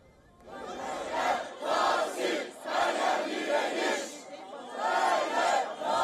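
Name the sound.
protest crowd in Istanbul chanting slogans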